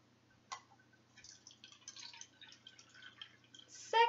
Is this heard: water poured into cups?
yes